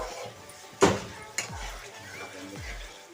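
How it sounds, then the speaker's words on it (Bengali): Ginger-garlic paste fries in a pan for a village-style khichdi, a soft steady sizzle under a spoon scraping and clinking against the pan while someone talks. "দু চামচ আদা রসুন বাটাটাকে আমি ভালো করে ভাজবো"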